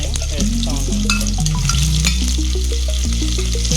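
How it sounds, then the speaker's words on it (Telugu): Thinly sliced onion and mustard seeds frying in a pan crackle and sizzle loudly and close up, with a continuous spitting fry and stirring noises, and no speech. "సన్నగా తరిగిన 1/2 ఉల్లిపాయ వేస్తా ఉన్నాను."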